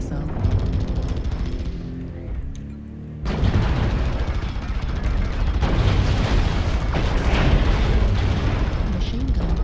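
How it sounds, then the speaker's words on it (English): Missile explosions in the mech combat game MechWarrior Online, with loud booming blasts and rumbling impacts that build into a continuous barrage, and a voice talks over the din. "Missile."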